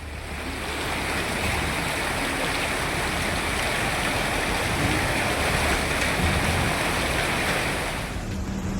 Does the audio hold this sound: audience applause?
no